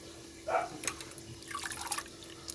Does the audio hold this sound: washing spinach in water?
yes